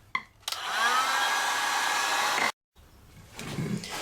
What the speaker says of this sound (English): you can use a stovetop or one of these heat guns to heat up the top area that we just cut on this PVC